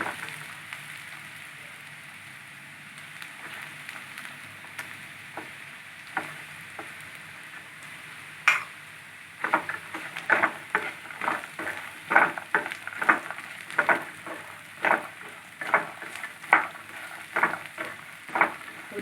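Phool makhana (fox nuts) fry in hot oil, starting as a quiet sizzle with scattered crackles and building into dense, sharp pops and spatters that come close and fairly loud.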